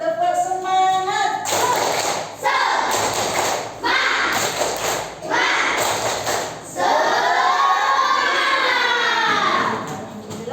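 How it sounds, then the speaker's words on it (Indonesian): A classroom of students claps out a rhythmic spirit cheer in bursts of loud, patterned claps mixed with chanting voices, pausing briefly between sections. "Biar semangat, kita tepuk semangat dulu. Tepuk semangat."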